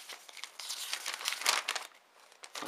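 Paper packaging of a Nokia Bluetooth headset, model BH-105 or BH-106, being unwrapped by hand, with continuous close crinkling and rustling that swells and fades.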